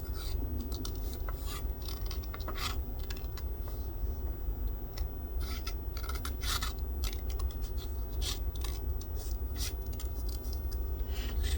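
Scissors snip through a paper card in repeated quick, close cuts with brief pauses between them, sounding crisp and near with no talking.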